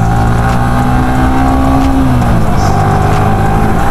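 Motorcycle engine dropping through the gears from fourth toward second while braking, a loud continuous drone with a falling pitch sweep midway, no voices.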